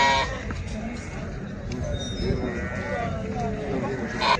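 Goats at a crowded livestock market bleat in short wavering cries over a busy hubbub of people talking nearby.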